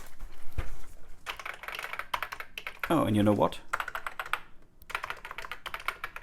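Clattery keystrokes on a Commodore 64 keyboard come in quick bursts, broken by a brief pause and a tonal sweep in the middle, while someone speaks briefly over the typing.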